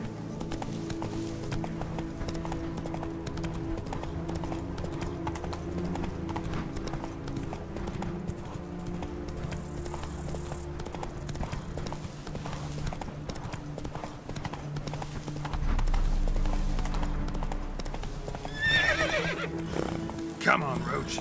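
Roach, a horse in The Witcher 3, gallops with steady rapid clip-clop hoofbeats and gives a loud neigh near the end, under a voice talking throughout.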